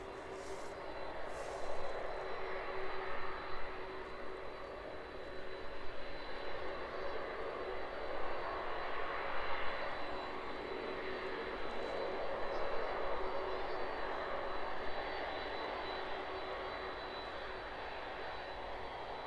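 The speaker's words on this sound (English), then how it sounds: "Watch this one land in and then take one last look at the 767 as it taxis by." A jet airliner lands at East Midlands Airport, a steady broad engine roar that swells and eases over about twenty seconds, heard from a distance outdoors.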